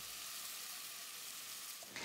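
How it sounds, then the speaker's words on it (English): Wet spice paste and ground spices sizzle steadily in a frying pan for butter chicken, a constant close hiss and crackle with a small shift near the end. "ground spices are kind of fizzing a little bit"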